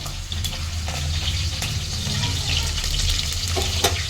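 Mutton heart frying in a pan, a steady close sizzle and crackle with occasional stirring clinks, no talk over it.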